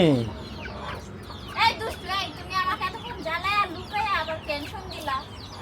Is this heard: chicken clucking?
yes